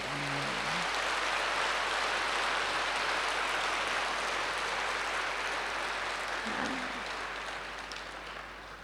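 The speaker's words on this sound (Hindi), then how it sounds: "ताकत से ताली बजाइए।" A large audience at a spiritual discourse applauds in a dense, continuous wash of clapping that holds steady, then gradually tapers off toward the end.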